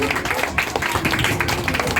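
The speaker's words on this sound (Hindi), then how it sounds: "जोरदार तालियां विष्णु भैया के लिए" Audience applause at an outdoor Independence Day celebration: a dense, steady wash of clapping from a crowd that runs through the whole moment, with some voices mixed in.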